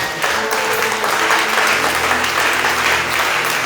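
A church congregation applauding and cheering in praise during a worship service, a dense continuous wash of clapping that stays loud and steady throughout.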